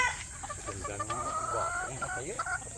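Gamefowl chickens being readied for shipping cluck and squawk in short, overlapping bursts close by, with a faint voice mixed in underneath.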